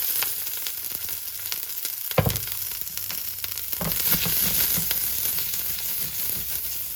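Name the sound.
capsicum and onions frying in vegetable oil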